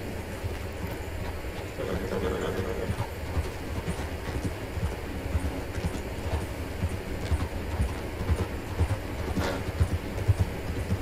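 A horse trots steadily in Red Dead Redemption 2, its hooves a continuous, fairly loud clip-clop rhythm over an outdoor rumble, with no talking.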